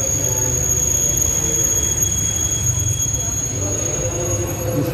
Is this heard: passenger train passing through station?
yes